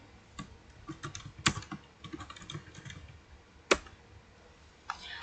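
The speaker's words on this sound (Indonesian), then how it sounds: "setelah kita input Dea Winata, ternyata data tersebut ditemukan" Someone types on a computer keyboard while entering a name into a data program, a close, irregular patter of keystrokes with a few sharper, louder clacks and short pauses, and no voices.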